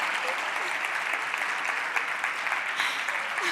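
An audience at a talk claps steadily, a continuous, moderately loud patter of many hands that holds for a few seconds without speech over it.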